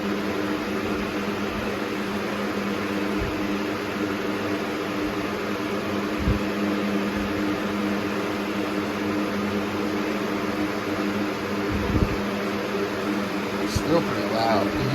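An Air King 9723 box fan, a newer unit, runs on its high setting with a steady, loud broadband whoosh of moving air, a constant hum beneath it and a few faint knocks.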